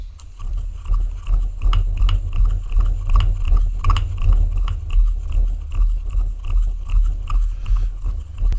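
Paint pigment ground into a paste for washes, a steady gritty scraping and rubbing close up, with repeated strokes keeping an even rhythm over a low background rumble.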